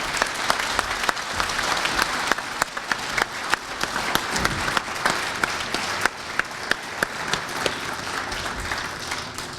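Applause from the audience at a hockey hall of fame induction luncheon, a broad wash of many hands clapping at moderate distance with sharper individual claps poking through, sustained for several seconds without speech.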